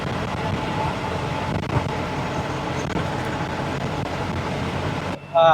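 Heard from inside the cab, an Ashok Leyland Saathi truck takes a curve at 65 km/h with a steady rumble of road and engine noise; the sound cuts off abruptly near the end.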